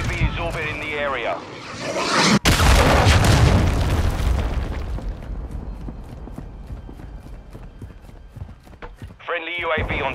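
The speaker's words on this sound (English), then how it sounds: "Hostile cruise missile launched." A cruise missile strike in Call of Duty: Modern Warfare II lands as a sudden sharp blast followed by a long rumbling roar that slowly fades, with announcer voices before and after.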